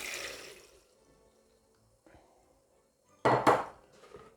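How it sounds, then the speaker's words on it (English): Water is strained off defrosted peas in a kitchen, with a faint clink of dishes early on, a short quiet stretch, then a brief loud splash and pour of water near the end. "strain off all the water."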